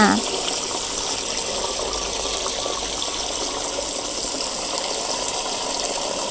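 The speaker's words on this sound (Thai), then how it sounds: "ก็คือเติมน้ำให้ได้ประมาณนี้เนาะทั้ง2ถังเลยค่ะ" Strong stream of water pouring into a bucket, a loud continuous gushing splash that holds steady throughout.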